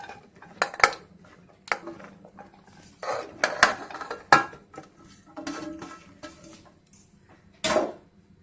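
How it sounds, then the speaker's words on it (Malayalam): Jackfruit pieces and peeled jackfruit seeds tipped into a pressure cooker in a home kitchen, with a handful of sharp metal clinks, scrapes and knocks of vessels and spoon coming at irregular intervals, no voices. "അതിനായിട്ട് നമുക്ക് കുക്കറിലേക്ക് മാറ്റാം."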